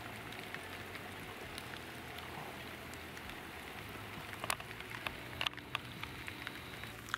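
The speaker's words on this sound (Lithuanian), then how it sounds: "Lyja lietus." Rain falling on a lake during a fishing trip, a steady faint patter with scattered nearby drops tapping close by, continuous and without talk.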